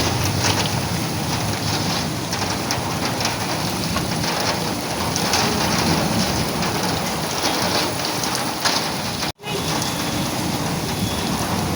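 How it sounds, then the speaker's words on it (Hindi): Heavy rain pours steadily with a dense, constant hiss of drops hitting surfaces, loud and unbroken, with a brief cutout near the end. "वो देखें कितनी तेज बारिश हो रही है।"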